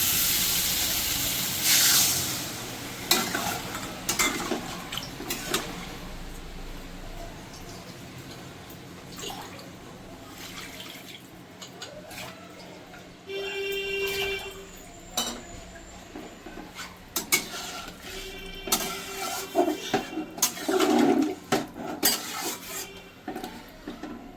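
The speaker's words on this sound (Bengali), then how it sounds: "এবার আমি দিয়ে দেবো জল।" Water poured into a pan of sizzling, well-fried spiced masala for a prawn curry with potatoes, a loud hiss and steam burst with clinking of a metal spoon and pan, alone without talk.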